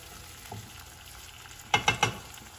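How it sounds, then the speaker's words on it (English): Tomatoes blistering in a frying pan for a goat cheese pomodoro, soft sizzle under three quick scraping stirs of a utensil against the pan, close and fairly quiet. "You want to give it a little bit of a stir to start incorporating all these flavors."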